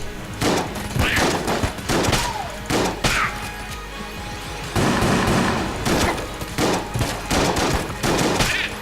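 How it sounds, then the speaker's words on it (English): Rapid bursts of gunfire from the Mega Hands gun in the video game Enter the Gungeon, a series of loud, clustered shots fired in short taps with brief pauses between volleys. "I'm tap shooting the Mega Hands"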